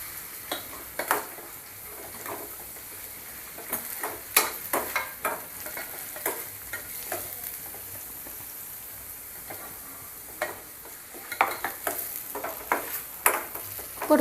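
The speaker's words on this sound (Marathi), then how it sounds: "परतून घेऊया तेलामध्ये सगळं." Ground masala paste and onion sautéed in oil for a Satara-style mutton curry, an intermittent sizzle broken by scraping stirs and clatters that come in uneven bursts.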